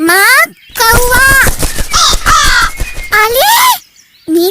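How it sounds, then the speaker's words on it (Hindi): Crow cawing repeatedly in a Ramayan TV drama scene, loud, harsh calls with a layered voice or musical backdrop, brief silent gaps between bursts. "कौवा कौवा माँ कौवा।"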